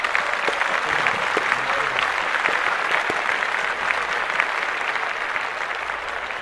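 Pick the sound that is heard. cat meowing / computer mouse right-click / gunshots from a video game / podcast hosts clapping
podcast hosts clapping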